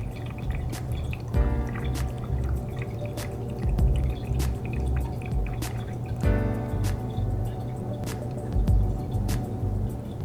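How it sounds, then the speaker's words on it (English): Water drains from an automated graphene-transfer tank after a solenoid valve opens, a steady trickling and dripping under a low hum, with two short bursts of valve or pump noise breaking in partway through. "A solenoid opens and drains the tank."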